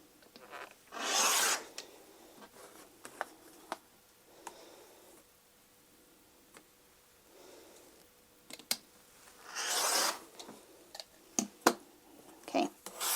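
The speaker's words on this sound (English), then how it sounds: "we'll make one more cut on the diagonals, on the X, on the lines that you drew" Quilt fabric is cut along diagonal lines with a cutter against a ruler and mat, producing a few scraping rasps separated by soft taps and handling clicks, close and fairly quiet.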